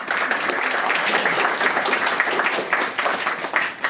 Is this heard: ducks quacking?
no